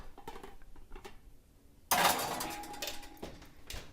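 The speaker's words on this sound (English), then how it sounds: "I am just going to put this in my oven" A metal pot topped with a colander of rendered beef suet is set into a home oven: a sudden loud clank and rattle of metal after a quiet moment, then lingering clatter and hum close by.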